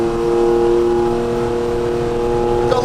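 A modern Ferrari sports car engine holds a steady, strong drone with clear harmonic tones while accelerating in a chase on a hilly road, loud and close throughout.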